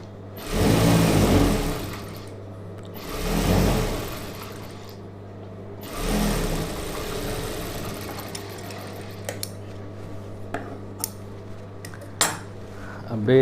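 Sewing machine stitching a chudidhar sleeve, running in several short bursts of whirring motor separated by pauses, then quieter handling clicks and taps toward the end.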